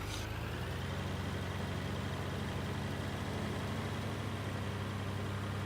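Tractor engine in the Farming Simulator game's Alpine Farming Expansion, a steady low idling drone with a rough mechanical hum, constant and close for several seconds with no voices.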